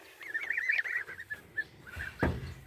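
Goslings in a chicken tractor on grass give a run of soft, thin peeping honks, faint and close, followed by a quick rustle and a thump.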